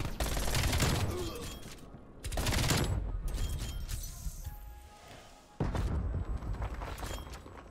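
An AC-130 gunship fires in Call of Duty, heard as three heavy bursts of booming cannon fire with rumbling, shaking decay between the blasts, spaced a few seconds apart.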